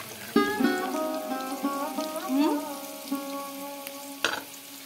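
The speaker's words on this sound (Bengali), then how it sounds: "ওখানে ফ্রাইড রাইসের সবজিগুলো একে একে ভেজে নিচ্ছি।" Vegetables for fried rice fry in a wok with a steady, soft sizzle, marked by a few brief stirring scrapes and clinks, with no voices.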